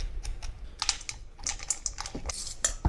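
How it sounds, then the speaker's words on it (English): A spoon scrapes seeds out of a halved pumpkin, making a rapid series of close, dry scratching clicks at an uneven pace for about three seconds, with no talking. "Take a spoon, scrape them seeds out."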